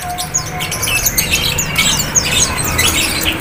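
Caged birds, including pleci (white-eyes), calling at a cheap bird market: loud, busy chorus of squawks and chirps from many birds at once, with steady crowd and market noise underneath.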